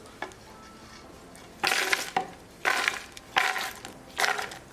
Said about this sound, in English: So we're going to put in the food processor.